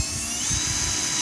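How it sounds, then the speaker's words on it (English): A high, steady whine of a power drill boring a pilot hole in a bucket lid runs continuously, close and fairly loud, with a faint low rumble underneath. "we're going to drill a pilot hole"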